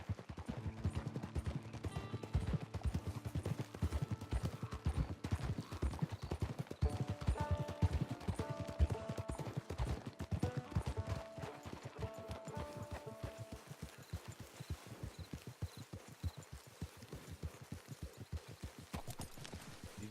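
Horse hooves clip-clopping in the video game Red Dead Redemption 2, a brisk irregular run of hoofbeats close by, mixed with soft game music and occasional mechanical clicks, no speech.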